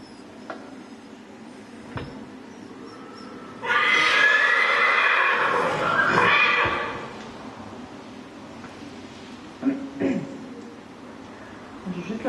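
A young horse being set in motion during breaking lets out a loud, drawn-out whinny, with a few scattered hoof thuds and light rustling before and after it.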